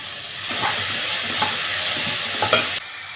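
Carrots, beans and cabbage sauté in a pan over ginger-garlic paste, sounding as a loud, steady sizzle broken by a few spatula scrapes and clinks.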